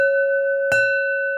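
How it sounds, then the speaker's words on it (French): A small gong struck once, the hit landing partway through over a steady ringing tone that sustains before and after with a clear, bright shimmer; no voices. "On me dit de faire sonner le petit gong"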